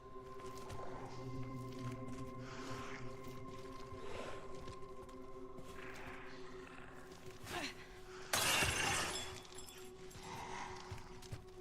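A glass door shatters in a video game, a sudden loud crash with a burst of breaking glass late in the clip, after quieter ambient game sounds and low hums.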